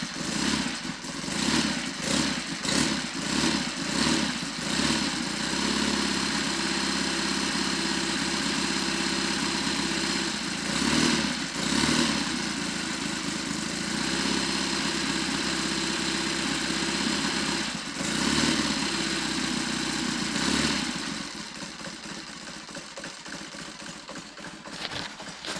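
Triumph/Royal Enfield 'Trifield' 500 trials motorcycle engine starting and running after carburettor work, choke closed to warm up: a few rhythmic revs, then a loud steady idle with occasional blips, dropping quieter near the end.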